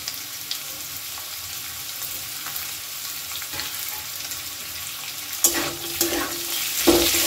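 Oil sizzles steadily as potatoes, cauliflower, peanuts and thinly sliced capsicum fry in a pan, with occasional scraping stirs and a few louder clanks near the end.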